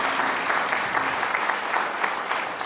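Audience at an indoor talk giving loud, sustained applause, a dense, even roar of many hands clapping close by with no speech over it.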